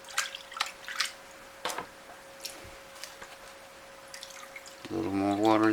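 Water pours into gold panning gear after a series of scattered drips and small splashes, ending in a louder, steady pour up close.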